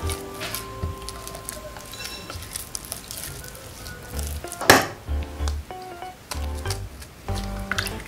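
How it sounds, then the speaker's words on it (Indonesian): Choux pastry dough being stirred in a pan after eggs are added, with scattered scraping and clinking of a utensil against the pot, a louder clatter midway and soft irregular knocks throughout. "Aduk hingga adonan benar-benar merata"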